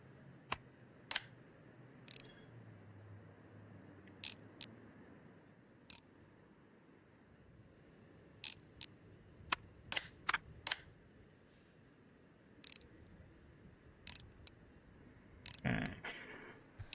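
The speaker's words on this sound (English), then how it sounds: "We're putting the screws on." Screws being fastened back into a device during a chill electronics-repair game, ReStory: a scattered series of sharp, quick clicks and ticks, some in short pairs, over a faint steady background.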